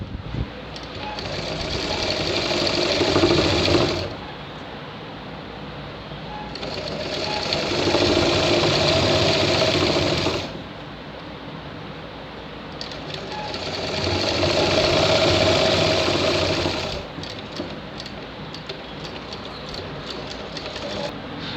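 Sewing machine stitching a shirt hem in three long, loud bursts of fast rhythmic whirring, each separated by a short lull of quieter handling noise, close up with no voices.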